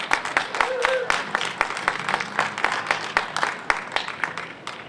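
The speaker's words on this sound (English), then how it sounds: "So everybody, big round of applause for Chief Keith Houghton." Audience applause at a recovery celebration evening as a police chief is introduced: dense, steady clapping from a room full of people, fairly close, with some talk mixed in and the clapping thinning slightly toward the end.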